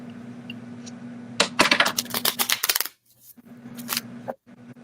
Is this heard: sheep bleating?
no